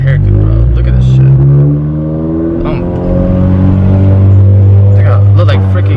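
A Honda Accord with a Ktuner Stage 2 tune is driven at a steady, droning engine pitch that rises slightly and then settles. Someone talks loudly over the cabin hum.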